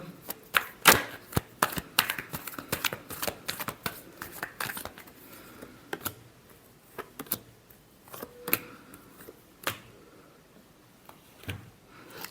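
Tarot cards being shuffled by hand, a quick run of crisp riffling flicks and soft slaps that come in uneven bursts, close and fairly quiet, with no voice over them.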